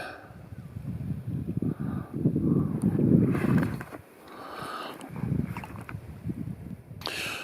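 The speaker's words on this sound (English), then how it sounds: "The wind can't seem to make up its mind about what it's doing." Wind gusts across a lake during a fishing outing, rumbling and buffeting the microphone in uneven surges that rise and fall over several seconds, with no talking.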